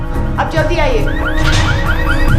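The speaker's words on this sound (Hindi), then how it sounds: "वो गाड़ी का अलार्म बज रहा है" A green Volkswagen car's alarm wails with repeated rising electronic chirps, loud and close, under and between urgent spoken voices.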